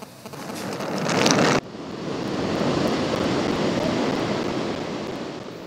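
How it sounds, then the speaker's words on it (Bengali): Rough sea waves crash onto the shore at Cox's Bazar during a deep depression over the Bay of Bengal, a loud continuous roar of surf with heavy wind buffeting, and no voices. "কক্সবাজারে বড় বড় ঢেউ আছড়ে পড়ে তীরে"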